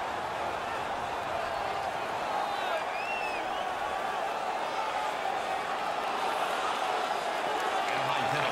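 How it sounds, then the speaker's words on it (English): Steady broadband arena crowd roar from an NHL 19 hockey game between the Ducks and Sharks, a continuous wash of noise with faint whistles or calls on top and commentary running over it. "The crowd is all over them right now."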